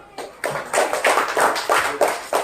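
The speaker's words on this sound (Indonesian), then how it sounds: "Beri tepuk tangan nak." A class in an Indonesian classroom claps after a student group's presentation, producing quick, rhythmic, evenly spaced claps in a steady beat, close and fairly loud, with no talking.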